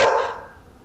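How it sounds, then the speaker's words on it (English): A dog gives a single short bark at a house door, loud at first and then fading quickly into quiet. "Doesn't even flinch for the dog's barking."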